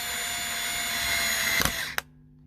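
A power screwdriver with its torque setting engaged drives screws into a Warman higher-mass bridge on a J & D 75 Jazz Bass: a steady close whirring that runs for about two seconds, then stops with a brief clunk.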